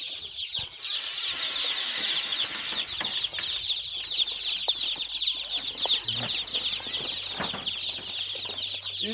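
Day-old Agric chicks in a brooding cage peep constantly in a dense, high chorus of overlapping chirps, close and steady, with a faint low hum in the background.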